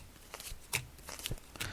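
Tarot cards being shuffled by hand, a run of soft papery riffles and slaps repeating every few tenths of a second, close and fairly quiet, with no talking.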